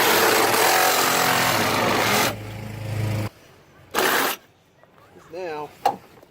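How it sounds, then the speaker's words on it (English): A power tool cuts off a stuck bolt on a car bumper, grinding loudly for about three seconds. A shorter burst follows, and then someone speaks briefly. "so JR is just cutting it off."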